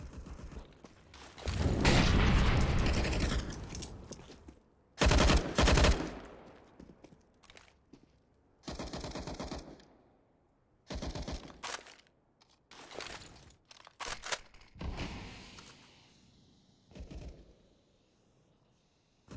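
Rifle spray bursts in Counter-Strike on the Dust 2 map during a tournament match, loud sustained fire followed by several shorter volleys separated by quiet gaps.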